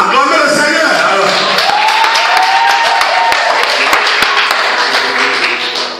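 A church congregation applauding and cheering the Lord, loud sustained clapping mixed with shouts and crowd voices filling the room.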